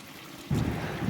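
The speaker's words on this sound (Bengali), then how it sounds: "এবার দিয়ে দেবো একটু জল।" Water is poured into a simmering fish head and potato curry made with catla, a sudden close splashing rush that starts midway and continues steadily to the end.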